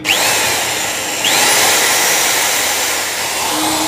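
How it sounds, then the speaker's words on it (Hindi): An electric drill runs steadily while being used to free a seized motorcycle speedometer cable, a loud, close, continuous whine with a brief dip and restart partway through, no voices. "इसमें हम इस तरह से ड्रिल मशीन को चलाएंगे"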